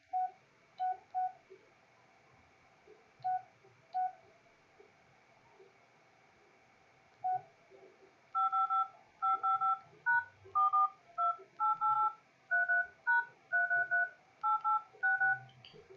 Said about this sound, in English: Why does my phone keep going off?